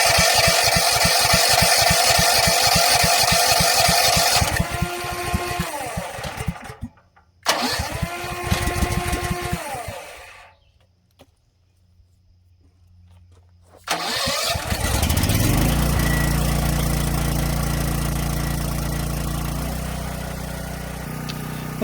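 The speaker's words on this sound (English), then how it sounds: "with the generator started" A propane-powered generator engine cranks and catches, cuts out, restarts, then falls quiet before firing up again and settling into a steady, loud, close idle.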